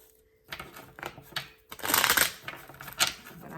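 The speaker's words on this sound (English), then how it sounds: "So let me go ahead and shuffle." A deck of tarot cards being shuffled close by, in soft riffling bursts and flicks with brief pauses between them, in a quiet room.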